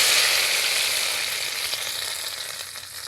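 Salt and spices hit hot oil in a kadai, giving a loud continuous hissing sizzle close by that eases slightly as it goes on.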